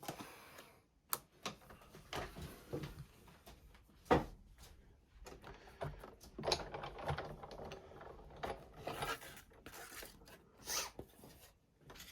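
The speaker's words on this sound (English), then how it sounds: "I'm gonna now die cut the bumblebee." A die-cutting machine feeds a bumblebee shape through on a magnetic platform, giving a quiet run of irregular clicks, knocks and grinding rasps with a few sharper thumps, close by and alone.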